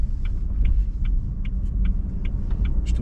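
Inside a Xiaomi SU7 electric car rated at 1500 horsepower while driving, a loud, steady low road rumble fills the cabin, with faint regular ticking over it throughout.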